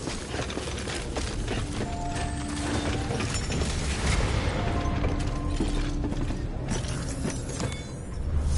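Suit decontamination machinery from Death Stranding, a continuous loud churn of ratcheting gears, creaking pulleys and clanking mechanisms with a hissing spray running underneath, steady for several seconds before easing slightly at the end.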